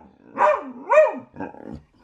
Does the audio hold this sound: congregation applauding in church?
no